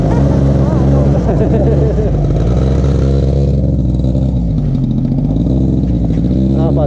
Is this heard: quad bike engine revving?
yes